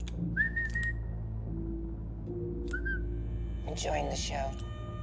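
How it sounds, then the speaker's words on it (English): A handler character whistles in a Monster Hunter game scene, with two short rising whistles over steady game ambience and background music, followed by brighter chirpy sounds near the end; people talk over it. "the serious handler is whistling at her for some reason"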